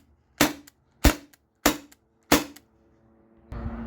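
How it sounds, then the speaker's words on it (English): Four sharp, evenly spaced pops from a modified T4E TR68 marker firing on CO2, each loud and close with a quick decay, followed by a softer hiss of gas. "I'm just gonna shoot all the rounds out of it"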